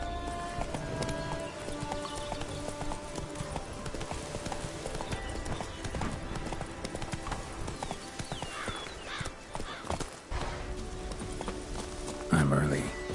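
A horse in The Witcher 3 gallops with fast, rhythmic clip-clop hoofbeats that go on throughout, mixed with game music and ambience, a voice speaking over it and a brief whinny near the end.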